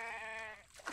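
Sheep bleating in the survival video game The Infected: one long, loud, wavering bleat for most of the second, fading out into a few faint rustling game noises.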